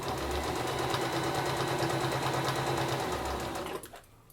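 A sewing machine stitches a drawstring bag, giving a close, steady rapid whirring hum for nearly four seconds before it stops abruptly into near quiet.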